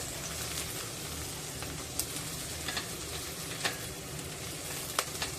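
Onions sautéing gently in a pan for a dry Bombay duck curry, a steady soft sizzle with occasional faint crackles and ticks throughout, no voices.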